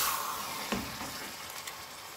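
Mutton frying with yogurt in a pan gives a close, steady sizzle with a couple of soft stirring clicks, fading slightly over a couple of seconds.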